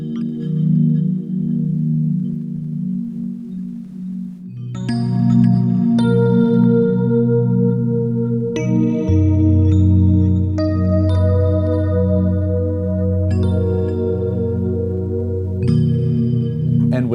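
A sample loop sent through a Blooper looper into an R1 pedal for stereo character, playing as layered sustained tones and shifting chord-like pads with steady low bass, continuous and fairly loud, with no talking.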